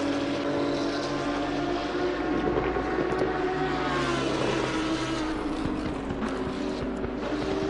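BMW M2 race cars run on the Silverstone circuit during a multi-class GT2 championship race, producing a loud, continuous engine roar that rises and falls slightly in pitch as they pass, steady throughout with no voices.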